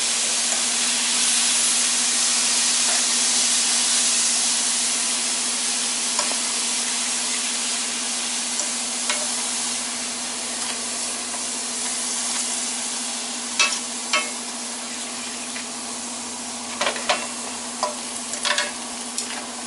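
A can of petite cut tomatoes hisses and sizzles in a hot pan for a kicked-up meat loaf, starting as a loud steady steam hiss that gradually eases while stirring scrapes and clicks come through near the end.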